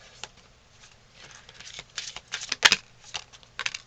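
Tarot cards being shuffled and drawn, a run of soft papery riffles and slaps building to one sharp snap near the middle, then a few lighter flicks, close and fairly quiet with no talk.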